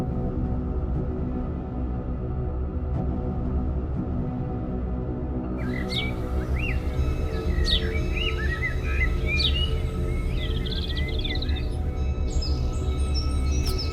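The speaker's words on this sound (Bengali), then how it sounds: "পাখির কলকাকলিতে মুখরিত এই পাহাড়ি জনপদের দিকে আসাটা অনেক বিপজ্জনক" Birds in the forested hills of Himchari, Cox's Bazar, sing thin chirps and twittering calls at moderate distance, starting partway through over a steady low rumble.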